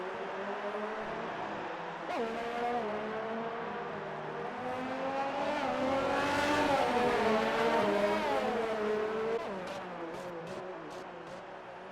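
XRL X1 race cars scream down the main straight at the Mexico round, high-revving engines whining as they approach, build to a loud pass around the middle, then fade away with gear-change blips.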